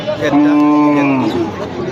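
A cow lets out a single loud, drawn-out moo close by at a cattle market in Gazipur, with faint crowd murmur around it.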